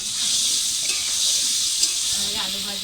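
Chicken meat cooks in a pan in a village kitchen, a continuous close sizzle and hiss with light stirring scrapes and no talk.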